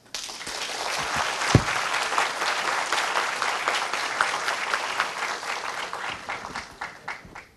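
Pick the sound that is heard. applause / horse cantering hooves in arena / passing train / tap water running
applause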